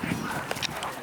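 A dog at a frosty-morning parkrun gives a brief bark or yip amid outdoor background noise, short and fairly close.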